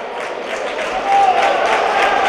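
Handball spectators in a sports hall applaud and cheer as a home goalkeeper celebrates a shot off the crossbar, a brief burst of crowd clapping that swells midway, with a commentator talking over it.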